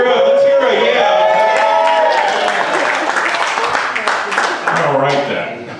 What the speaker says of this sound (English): I heard everybody cheering